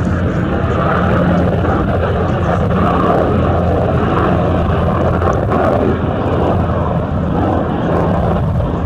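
A Lockheed S-3 Viking jet at NAS North Island rolls down the runway and takes off, its engines a loud, continuous roar mixed with wind buffeting the microphone.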